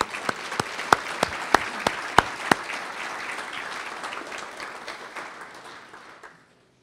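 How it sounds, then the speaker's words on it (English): Audience applause at a high school sports hall of fame ceremony, a steady wash of clapping from a crowd with a few sharp nearby claps early on, gradually thinning and fading out toward the end. "can we please join me in a round of applause to congratulate Derrick Swart"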